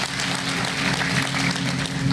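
Applause from an audience at a public political meeting chaired by a local MLA, a dense, steady clapping that holds at an even level throughout, with no voices standing out.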